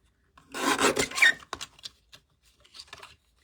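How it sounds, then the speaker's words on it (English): A handheld mini paper trimmer slices through material with a quick rasping scrape about a second long, followed by a sharp click and a few smaller scratchy shuffles, close and clear. "I'm going to get my trimmer, my mini trimmer, and cut that down."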